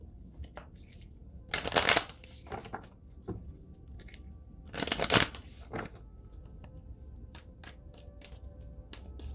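A deck of oracle cards is shuffled close by in two loud riffling bursts, with lighter taps and card handling between them and no talking.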